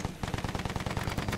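Rapid automatic gunfire from a World War I shooter game rattles in quick, evenly spaced bursts after a brief pause, loud and close, with no talking over it.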